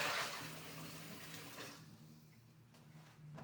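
Tap water runs and splashes as something is rinsed after whisking in a stand mixer, louder at first, then settling into a softer steady flow.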